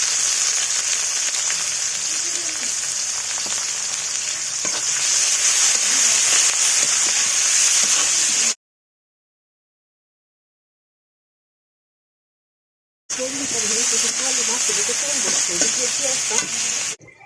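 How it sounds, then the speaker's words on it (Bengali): Chopped onion and green chili frying in oil in a karahi, a loud close sizzle that cuts out for several seconds and then returns with light stirring. "এই যে আমার পেঁয়াজ ভাজা কিন্তু খুব ভালোভাবে ভাজা হয়ে গেছে।"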